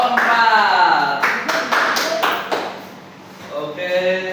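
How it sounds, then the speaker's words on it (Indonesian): A classroom gives brief applause for a student group: a short burst of scattered hand claps, close and moderately loud, between stretches of someone talking. "tepuk tangan buat kelompok"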